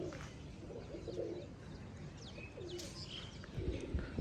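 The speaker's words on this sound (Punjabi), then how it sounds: "ਆਪਣੇ ਕਬੂਤਰ ਉੱਡ ਰਹੇ ਨੇ ਬਾਈ" Pigeons coo softly in low repeated calls while flying, with a few brief chirps from other birds over steady outdoor ambience.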